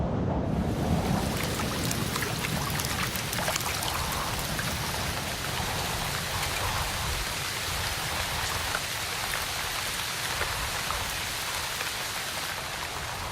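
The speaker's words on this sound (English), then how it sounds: "The long drought of February to May ended with violent cleansing storms drenching everything." Heavy rain pours down in a Maya forest after the long dry season, a dense, steady roar of drops drenching everything, loud and unbroken from start to finish.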